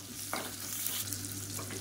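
Steady sizzling of sliced onions sautéing in a hot pan for kanji, with a few soft stirring scrapes and a low constant hum underneath.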